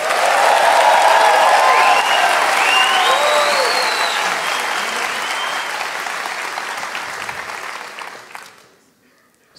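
A comedy show audience breaks into loud, sustained applause with some cheering, clapping densely for several seconds before fading out and dropping to near silence at the very end.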